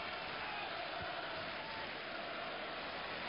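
A football stadium crowd at a 1995 match between Blackburn Rovers and Newcastle United applauds a pass, a dense, steady wash of clapping and crowd noise heard at a distance, with no clear talk.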